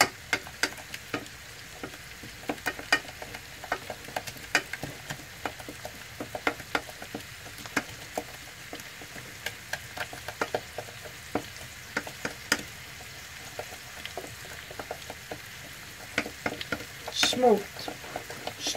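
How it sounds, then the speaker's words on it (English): Lasagne sauce being stirred in a pan as it cooks, a steady soft sizzle under repeated light scraping and tapping of the utensil, continuous and close, with a slightly busier flurry near the end. "You see it's cooking, and now you can mix it. You mix till it is smooth again."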